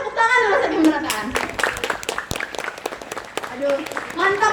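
Middle school students clap their hands at an anti-bullying and study-motivation session, a scattered burst of claps mixed with loud talking and voices throughout.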